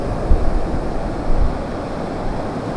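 Broad, steady rushing roar of a swollen river in sudden flood, low and dense with a couple of heavier surges, wind-like noise over the water and no talk.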